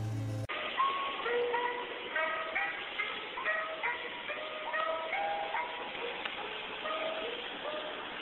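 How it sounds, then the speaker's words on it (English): Creepy, warbling tune from a vintage ice cream truck's broken music box, thin bell-like notes wavering and out of tune, playing continuously at moderate volume with background hiss. "the music box used in this truck is broken. But the music sounds a lot worse and a lot more creepy."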